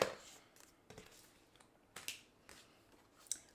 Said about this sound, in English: Just add your tape runner.